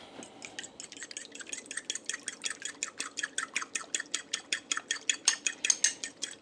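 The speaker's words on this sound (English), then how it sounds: "if we take an egg and mix it up with just a little bit of water," Rapid, regular clinking of a whisk against a bowl while beating an egg with a little water, speeding into a steady rhythm, close and fairly quiet.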